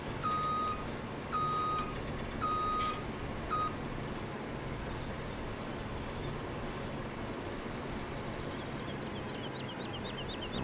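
Reversing beeps from a farm vehicle in Farming Simulator 17, four clear evenly spaced beeps over a steady engine rumble, then the engine drones on alone.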